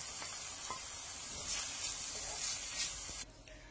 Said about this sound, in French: dans une poêle avec un filet d'huile, je fais chauffer et je fais revenir mon oignon. Ensuite, je rajoute mes champignons.